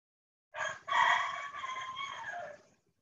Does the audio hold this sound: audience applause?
no